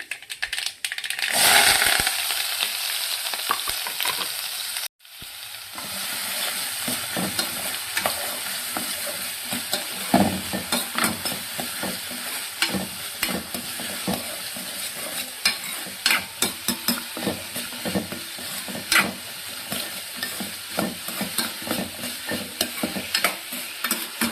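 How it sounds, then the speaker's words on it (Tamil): Vegetables with curry leaves sautéed in a pan for vegetable idli, a steady close sizzle under repeated scraping and stirring strokes of a spatula, with no talking. "கொஞ்சமாக இதில் கருவேப்பிலையை சேர்த்துடுங்க சேர்த்துட்டு எல்லா காயும் இதில் போட்டு நல்லா வதக்கி எடுக்கணும்"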